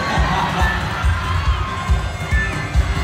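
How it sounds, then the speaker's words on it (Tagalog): A large crowd cheers and shouts at a coronation night pageant in a gymnasium, a loud sustained roar of voices with rhythmic low thumps pulsing beneath it. "And the crowd goes wild."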